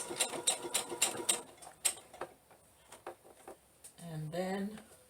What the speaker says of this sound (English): So here I'm sewing the sides.